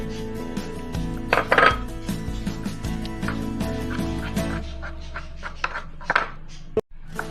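Cookie dough with sunflower oil and flour is mixed in a bowl, heard as loud close clinking and scraping of a utensil against the bowl in irregular bursts, with no voices.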